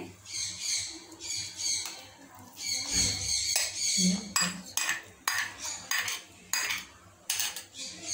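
A spoon scrapes and clinks against a metal pan as mango pulp is stirred into kheer on Healux cookware, repeated sharp metallic scraping strokes, close and fairly loud.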